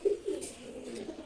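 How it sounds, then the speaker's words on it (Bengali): A pair of pigeons, one red male and a female, coo softly at close range in a short burst of low, throaty calls. "আমার খুবই প্রিয় এক জোড়া কবুতর"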